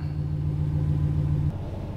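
A Ram 1500 pickup with MDS turned off and a 93 performance tune from Diablo drives on a test drive, a steady low engine drone that drops in pitch partway through, with no talking.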